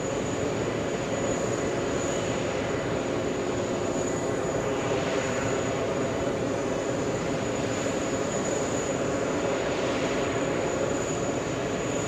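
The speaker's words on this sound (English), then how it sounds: "We have the British taking off" A British Airways jet taking off at JFK airport on a hot day, a steady, distant engine roar holding at even loudness throughout with a faint high whine on top.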